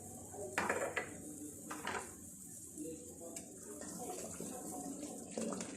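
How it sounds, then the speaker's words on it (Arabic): Spoon clinking and scraping against a pot while stirring honey syrup with ground mastic and sugar, a few sharp metallic knocks between softer scraping, faint and close. "غادي نخلط باش يندمج مع العسل"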